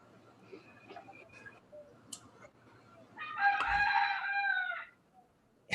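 At daybreak a rooster gives a single strong crow lasting over a second, heard after quiet scattered background noises and clicks.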